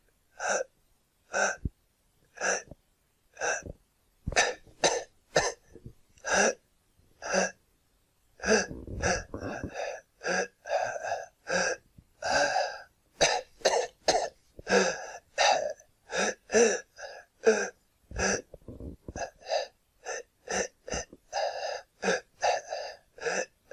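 A voice imitates a patient's labored breathing from postural orthostatic tachycardia syndrome, a long series of sharp, rhythmic gasping breaths, close and loud, with short pauses between bursts.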